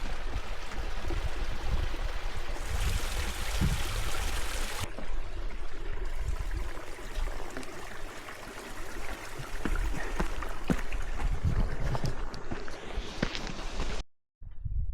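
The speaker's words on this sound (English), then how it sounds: "That's a little creek here." A small mountain creek rushes and gurgles steadily on a trail up Mt. Shavano, fairly close, with footsteps and rustling on top and a brief dropout near the end.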